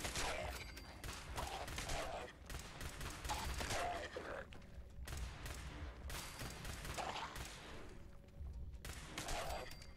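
In Fallout 76, gunfire comes in repeated rapid bursts of shots separated by short pauses. The shots sound fairly faint and distant throughout.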